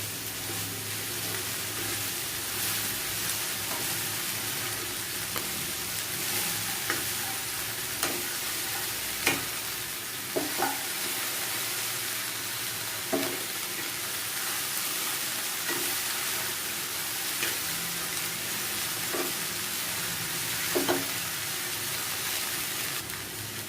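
Sliced okra (ladies finger) stir-fries in a pan with a steady, close sizzle, punctuated every few seconds by spatula scrapes and taps on the metal as it is mixed, with no voices.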